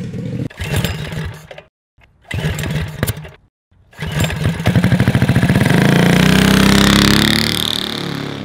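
A loud 670cc, 50 horsepower lawn mower engine sputters and idles in bursts with brief cutouts, then revs up steadily to a high, roaring whine, close by.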